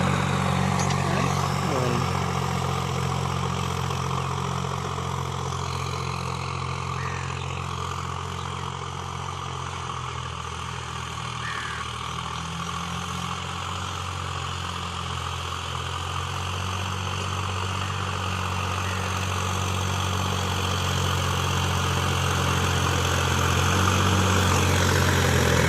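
Sonalika tractor idling in a field being prepared for planting carrots, a steady low diesel rumble with constant harmonic drone throughout, near and continuous.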